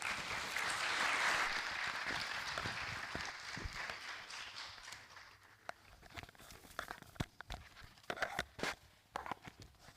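Audience at a Smart Africa Youth Chapter launch event in Malawi applauding the panelists, a broad swell of clapping that is strongest early then thins into scattered individual claps and rustling toward the end.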